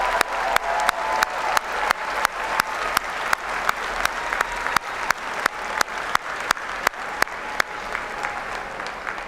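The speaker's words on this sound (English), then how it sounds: "graduates, give them a big round of applause" A large crowd at a university spring commencement ceremony claps steadily and loudly for the graduates, a dense sustained wash of applause with sharp repeated claps cutting through and no speech.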